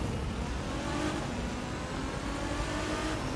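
A Nissan GT-R engine roars steadily as it accelerates in the racing video game The Crew 2, a dense, constant drone with no voices.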